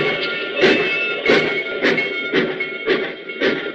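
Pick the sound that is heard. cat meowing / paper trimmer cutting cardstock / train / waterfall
train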